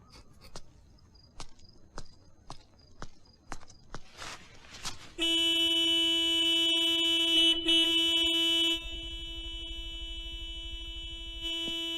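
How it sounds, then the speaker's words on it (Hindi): A few footsteps tap along, then a car horn blares loudly and steadily for several seconds before a quieter tone lingers. "इतनी जोर से हॉर्न मत बजाइए।"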